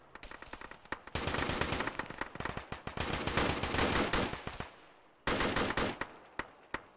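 Gunfire in a military video game: sustained automatic bursts and single shots, loud and close, broken by a short pause before firing resumes.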